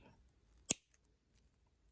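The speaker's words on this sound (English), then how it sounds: "we're just going to cut one link" A single sharp snip of cutters through one chain link for a beaded earring, a brief close click standing alone amid near silence.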